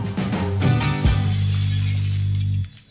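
Glass shatters in a sharp crash at the end of a ska song, taking the place of a final cymbal hit. A sustained closing chord rings out loudly under and after the crash before cutting off.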